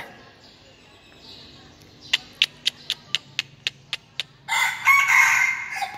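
A rooster crows, followed by a rapid run of about ten sharp, evenly spaced clicks or taps, then a louder burst of crowing close by at the end.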